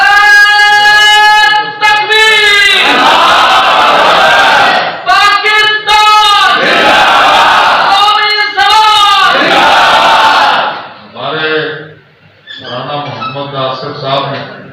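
A crowd at a conference in Lahore chants political slogans in loud, rhythmic bursts, with the voices rising together and breaking off repeatedly, then tapering into scattered shouts.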